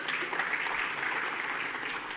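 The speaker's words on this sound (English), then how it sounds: "Please give a big round of applause." Steady audience applause for a panel at the Tamil Nadu Global Investors Meet 2024, a dense continuous wash of clapping at moderate level, alone without talk.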